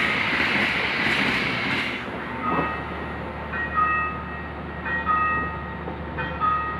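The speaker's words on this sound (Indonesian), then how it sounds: "Berjalan langsung kereta api Surabaya Jakarta angkatan pagi tujuan Pasar Senen." A Gaya Baru Malam Selatan passenger train on the Surabaya–Jakarta run to Pasar Senen passes through a station, giving a steady close rolling rumble with thin, sustained high metallic squeals from the wheels.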